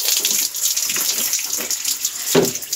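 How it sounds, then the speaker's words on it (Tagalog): Bathwater runs continuously from a tap, a close, steady splashing gush with brief louder spatters as it is used for bathing. "Naliligo na ako."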